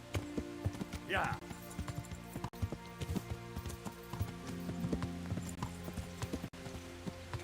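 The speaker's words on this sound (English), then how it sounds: "Can I ride my horse just sort of through town?" Rhythmic clip-clop of horse hooves during riding in Kingdom Come: Deliverance, steady and fairly close under game ambience and music, with people talking over it and a brief whinny-like rise early on.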